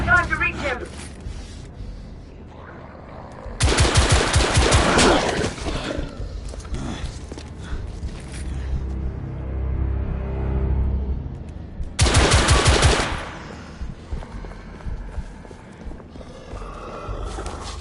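Gunfire in the video game The Order: 1886, two loud bursts of rapid shots separated by a lull of rumbling game ambience and effects.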